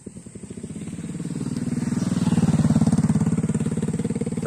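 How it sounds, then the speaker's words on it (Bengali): A motorcycle engine putters with a rapid steady pulse, growing louder as it draws near and then holding close, on a dark village road at night after rain. "একটা মোটরসাইকেল আসছে"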